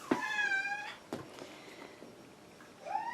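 Pet cats meowing indoors in a house near an antique couch: a clear meow opens, a few quieter sounds follow, and a second rising meow comes near the end.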